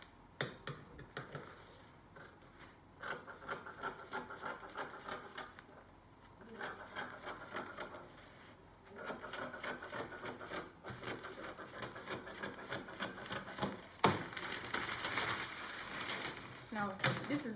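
Scissors cut through fabric for a sleeve in quiet, close snips and rustles, arriving in short bursts with pauses between them.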